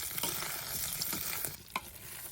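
Boiled potatoes fry in oil in a pan while being stirred, a close, steady sizzle broken by soft scraping strokes from the spoon, with no one speaking.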